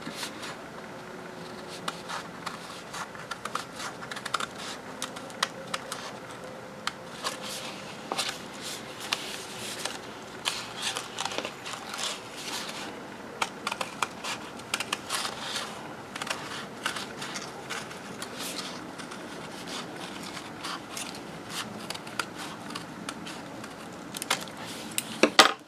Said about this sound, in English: I can take my scissors and cut my heart.